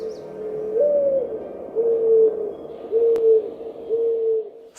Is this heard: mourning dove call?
yes